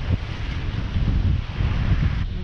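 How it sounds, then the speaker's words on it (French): Strong wind buffets a sailboat crossing the strait in the Gulf of Corinth, a loud, unbroken rushing roar with low gusty rumble and faint water wash beneath, no voices. "finalement le vent annoncé est arrivé, un peu plus tard que prévu, on marche fort."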